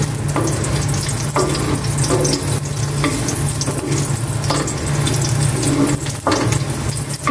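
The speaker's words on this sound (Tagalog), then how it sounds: "Igisa na po natin itong bawang." Fresh garlic sautéing in a pan at home, a steady close sizzle and crackle with repeated stirring scrapes, along with a low running hum throughout.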